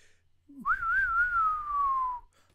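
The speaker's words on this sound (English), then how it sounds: "I'm going to try to do the whistle here." A person whistles a single sustained tune, one clear rising then slowly falling note held for about a second and a half, close and loud, alone with no talk.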